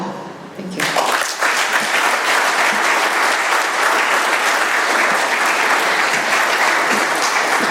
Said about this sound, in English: Let's give Lizzy another round of applause